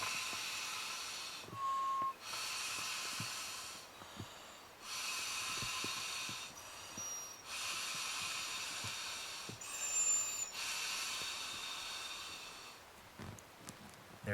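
Air hisses steadily through a small top-up valve on an inflatable packraft, coming in repeated bursts of several seconds each with brief pauses between, close and fairly loud, with no talking.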